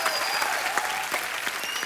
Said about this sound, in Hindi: आप एक बार जोरदार तालियां रंजीत साहब, प्रेम साहब और रजा बराज साहब के लिए